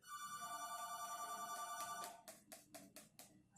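Telephone bell ringing in a home kitchen, a steady electronic ring that cuts off, followed by several soft knocks or clicks.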